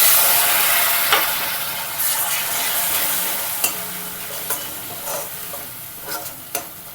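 Spices (turmeric, Kashmiri chili powder and cumin powder with a splash of hot water) sizzle and are stirred for a cabbage curry with rohu fish head: a steady loud frying hiss with periodic spoon scrapes, no voices.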